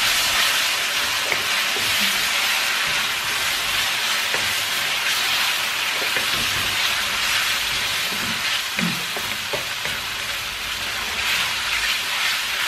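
A spice paste sizzles and fries in a hot pan, giving a steady, loud, broadband hiss with faint crackles and no talking throughout.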